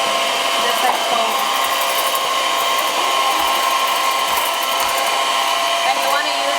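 An electric hand mixer fitted with a whisk attachment whips egg whites to a foam for chile rellenos, a steady, loud whirring motor drone that runs unbroken throughout with faint clicks underneath.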